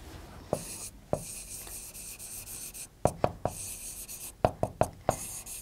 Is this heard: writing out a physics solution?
yes